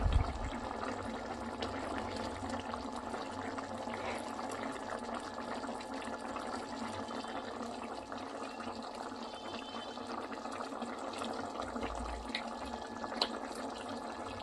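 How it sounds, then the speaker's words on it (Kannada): A pot of masala curry bubbles steadily on a home stove, a continuous dense simmer of small pops and hiss, close and even throughout with no talking. "ಫ್ಯೂ ಮಿನಿಟ್ಸ್ ಲೇಟರ್ ಕುದೀತಾ ಇದೆ"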